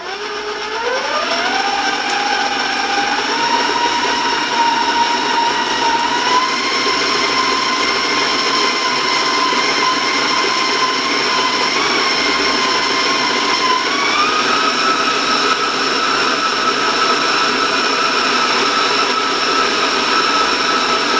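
An electric mixer beats Italian coconut cookie batter in a mixing bowl with a loud, continuous motor whine that rises in pitch as the speed steps up, then runs steadily.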